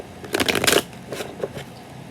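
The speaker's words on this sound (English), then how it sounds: "Let's stop shuffling right there." A deck of tarot cards is shuffled by hand, with a quick burst of riffling, papery flutters followed by a few softer, shorter card slaps, close and intimate.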